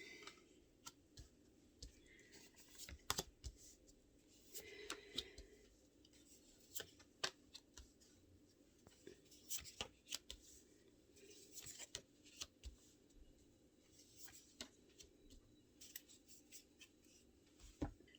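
Tarot cards cut and shuffled at close range, soft irregular clicks, taps and rubbing scattered through a quiet room.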